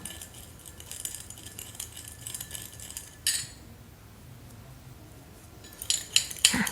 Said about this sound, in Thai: คนส่วนผสมให้เข้ากัน